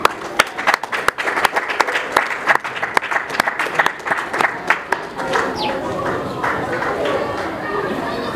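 Audience applauding to welcome a speaker at an institution's ceremony, dense close clapping that builds then blurs into crowd chatter and voices toward the end.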